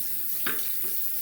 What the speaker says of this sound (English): Gonna rinse off the blade once again with some water.